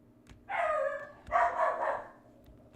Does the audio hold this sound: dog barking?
yes